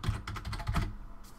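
Quick bursts of keystrokes on a computer keyboard, a close flurry of clicks that trails off into quiet near the end.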